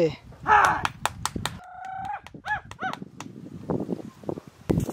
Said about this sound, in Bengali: সব পাখি ঢুকেছে